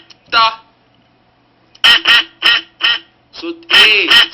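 A duck quacks loudly and close by, first a single call, then a rapid run of five or six harsh quacks ending in a longer drawn-out one.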